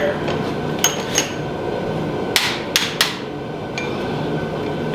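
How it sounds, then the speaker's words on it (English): Several sharp metallic hammer strikes on a Datsun 240Z engine bay during rust removal ring out in an irregular pattern, some in quick pairs, over a background of low noise. "Just hit it with a hammer."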